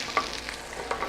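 Pork medallions and a Baja vegetable blend brown in a hot pan with a soft steady sizzle, punctuated by a couple of light clinks and stirring scrapes, no voices.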